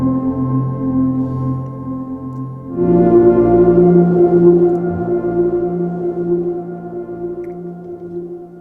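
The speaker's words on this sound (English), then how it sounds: "Grainferno is really good at these lush kind of pad sounds" A lush, sustained pad from the Grainferno granular synth plugin, a low drone that swells into a denser, shimmering chord partway through and then holds steady, alone without any voices.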